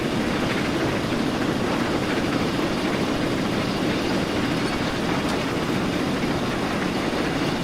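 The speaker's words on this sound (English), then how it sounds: "That's 60 odd miles an hour now in a steam train." A steam locomotive hauling a train at speed in Train Simulator on the Riviera Line in the 1950s, a loud continuous rushing rumble with faint rhythmic wheel clatter, steady throughout without speech.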